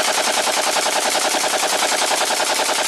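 Kalashnikov rifle fire as a sound effect, a loud, dense, continuous rattle of rapid shots that fills the whole stretch without a break.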